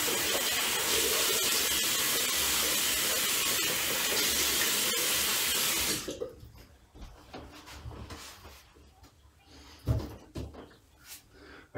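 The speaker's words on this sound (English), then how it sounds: "I like to get my tap hot, nice and warm water." Warm water from a household tap runs loud and steady for about six seconds before shutting off, followed by quieter splashes and small handling sounds at a sink.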